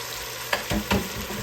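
Gulf shrimp searing in a hot pan, a steady close hiss with a few brief stirring scrapes and clunks in the middle.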